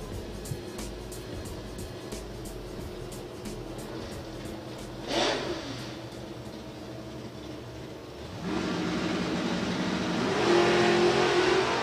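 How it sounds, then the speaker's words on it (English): Drag racing cars, including Comp Eliminator, Top Methanol and Pro Modified classes, launch off a green light at a drag strip event, with a steady engine roar that swells and grows louder toward the end. "green light drag race. And a very good green light drag race, to be fair."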